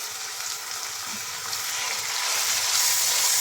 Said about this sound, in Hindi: तो इसमें ऑलमोस्ट भून गई है हमारी अनियन।